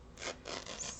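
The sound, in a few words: paper being torn by hand for a layout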